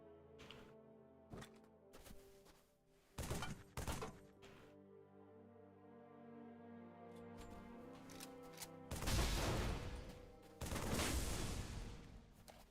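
Halo 3 mod tools explosion effects play as sharp, booming blasts, a few scattered bursts followed by two heavier, longer rumbling explosions toward the end, with no talk.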